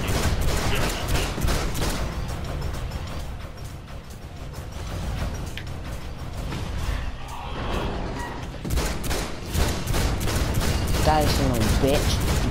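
Pistol fire in DC Universe Online on PS4, heard amid a dense, loud mix of combat effects, impacts and bursts that run through the whole stretch, with talk over the top.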